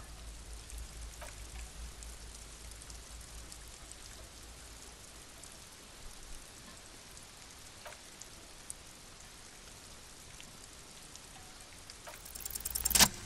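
Steady video game rain patters softly and evenly throughout, with a few faint ticks, then swells briefly louder at the very end.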